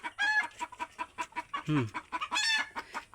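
A hen clucking in a pigeon and poultry shed, short repeated clucks in a quick rhythm, close and fairly loud, with a couple of louder squawks.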